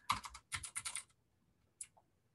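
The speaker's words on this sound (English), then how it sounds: "So you can literally just go in there and start typing other things out." Keys are typed on a computer keyboard, two quick bursts of close, crisp clicking, then a single keystroke after a pause, in a quiet room.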